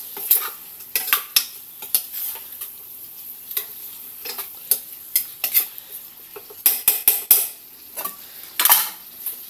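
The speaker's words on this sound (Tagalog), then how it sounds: "Haluin natin." A utensil stirs beef stock in a cooking pot, producing irregular scraping clinks and knocks against the metal in close, uneven bursts.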